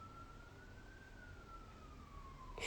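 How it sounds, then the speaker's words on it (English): A single siren wails faintly in the distance, its pitch slowly rising then falling, under a quiet steady background hiss. "sirens in the background."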